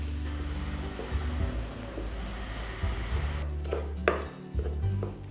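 Potato being stirred into masala in a pan with the stove flame off, giving scraping and clanking of a utensil against the pan, fairly close and steady, with a few sharper knocks near the end.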